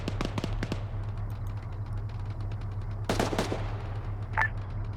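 Bursts of gunfire during an airsoft-style operation, a quick rattle of several shots at the start, another cluster around the middle and a single later shot, moderately distant over a low steady hum.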